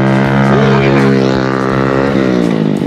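A motorcycle engine roars close by outside the Santa Isabel cemetery in Santa Ana, loud and harmonic-rich, its pitch shifting as it passes, with faint voices in the background.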